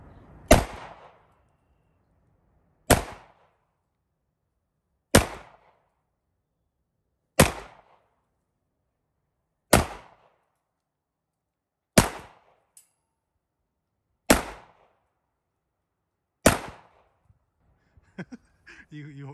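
Eight single shots from a .45 caliber 1911 pistol at a range, each a sharp loud crack spaced about two seconds apart in a steady rhythm, with near silence between them and brief faint voices near the end.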